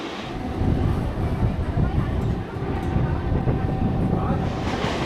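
Nearly empty local train on the Howrah to Digha line running along, a continuous loud rumble and rattle heard from inside a carriage, steady throughout.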